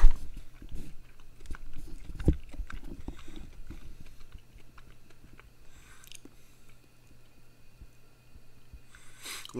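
Chewing of sour Italian jelly candy close to the mic, with soft biting and squishy mastication sounds, loudest early and fading to quiet chewing.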